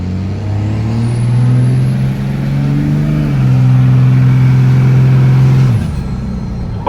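A 2002 Ram 2500 with a Cummins diesel engine and upgraded transmission accelerates at full throttle, a loud, close, rising engine drone that climbs through a gear change before easing off near the end.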